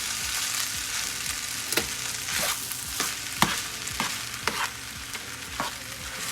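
A one-pot dish seasoned with soy sauce sizzles steadily in the pan while a spoon stirs it, the stirring strokes scraping at a loose, repeated rhythm over the continuous frying hiss.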